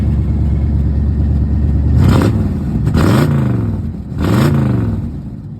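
A Chrysler fitted with a Pedal Commander revs its exhaust in three loud, close bursts, each rising sharply and falling back to a rumbling idle between them.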